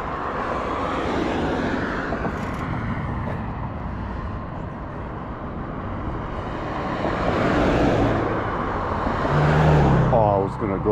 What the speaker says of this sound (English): not the semi truck kind of scared me